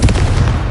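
A short, loud blast effect bursts out from the Confringo spell in a Harry Potter video game, a single punchy impact with a rumbling low body that fades over under a second.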